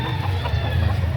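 A rooster crows and clucks close by at a chicken market in Lipa, Batangas, a brief, loud burst of throaty calls over a busy background.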